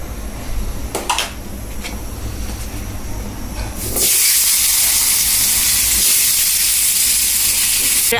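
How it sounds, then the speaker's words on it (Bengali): Potato pieces with a little salt start frying in hot oil partway through, the soft background suddenly giving way to a loud, steady hissing sizzle that continues to the end, with no talking. "অল্প পরিমাণ লবণ দিয়ে এখন আলুটি ভেজে নিব"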